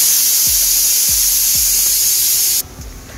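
Steady broadband rush of water pouring and draining from cooked rice, with a few low thuds at intervals; the stream cuts off abruptly near the end, leaving a quieter hiss.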